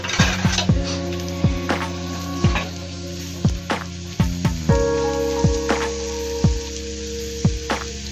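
Chopped onions and green pepper fry in a pan with a steady sizzle, broken by frequent sharp metallic clinks and ringing taps of a utensil against the pan, close up and with no talking.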